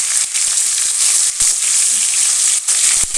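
Ripe tomatoes dropped into hot oil with a loud, dense, close sizzle that runs steadily, with a few brief dips and taps.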